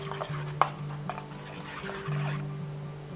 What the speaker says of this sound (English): Now we mix all together.